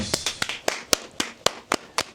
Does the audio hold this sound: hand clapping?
yes